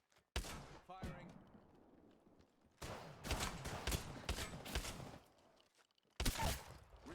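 Gunfire in the Apex Legends video game, bursts of rapid shots in separate volleys with gaps between them, loud and close.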